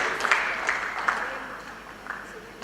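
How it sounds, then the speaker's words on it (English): Applause from an audience at a community event in Saint Lucia, fairly faint and diffuse, with a few sharper claps standing out and fading off toward the end, with no voices over it. "please give a round of applause to our 7 master contractors"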